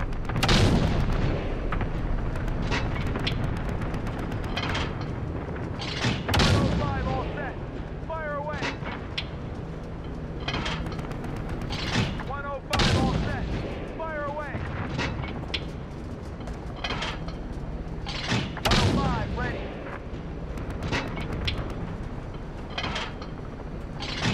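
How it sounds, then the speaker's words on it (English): Allied cluster strike explosions in Call of Duty: Modern Warfare on Suldal Harbor, a string of heavy booming blasts at irregular intervals layered with gunfire and battle noise, with voices talking throughout. "Allied cluster strike inbound."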